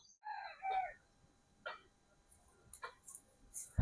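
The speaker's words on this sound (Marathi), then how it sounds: "चला गावठी कोंबडी बघायला" Village chickens cluck nearby in short, scattered bursts, ending with a sudden sharp noise.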